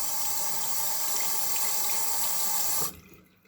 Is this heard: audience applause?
no